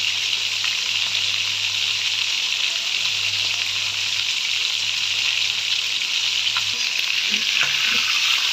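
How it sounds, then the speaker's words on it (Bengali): Meat sizzles steadily in a hot pan as it browns for a spinach and meat curry, a dense, continuous frying hiss with faint crackles and no voices. "এখন আমি মাংসগুলো লাল লাল করে ভাজার জন্য অপেক্ষা করব।"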